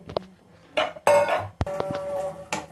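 Cooked pasta is tossed into toasted vegetables in a pan. Close metal clanks and scrapes from a spoon against the pan come in short, uneven bursts.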